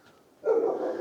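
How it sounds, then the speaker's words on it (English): Dogs give a single short bark or yip, close and fairly loud, after a moment of near quiet. "Silly dogs."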